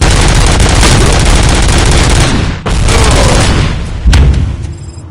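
Dense, sustained gunfire from RoboCop: Rogue City, loud and continuous with booming shots packed together, a brief drop near the middle before the barrage resumes and a heavy blast near the end.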